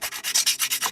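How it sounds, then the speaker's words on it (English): Sandpaper worked along the grain over a scrimshaw piece, about eight quick, even back-and-forth rasping strokes, close and clear with no talking. "I'm going to do the same with the grain sanding"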